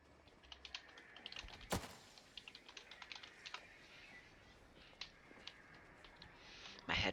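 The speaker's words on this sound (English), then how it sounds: "My headphone cable gets in the way of the typing on the keyboard." Fingers type on a computer keyboard in quick, irregular bursts of soft clicks, close by and fairly quiet, with a sharper knock partway through and another near the end.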